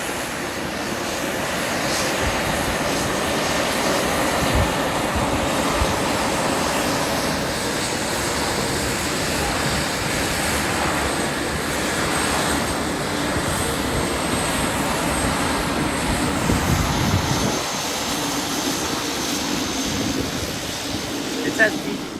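Aircraft engines drone steadily at a Gatineau-Ottawa airshow, a continuous roar that swells slightly near the end, with a voice talking over it.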